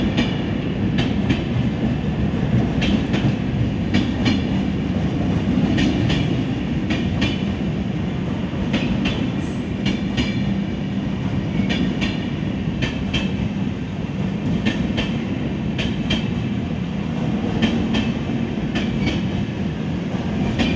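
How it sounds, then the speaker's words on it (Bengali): A passenger train bound for Katra rolls along the rails nearby with a continuous low rumble and a steady clickety-clack of wheels over joints, unbroken and fairly loud for the whole stretch. "কাটরা যাচ্ছে এই ট্রেনটা।"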